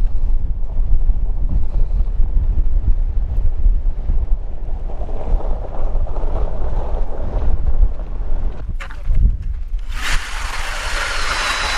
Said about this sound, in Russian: Аж сдувает ветер. В спину дует.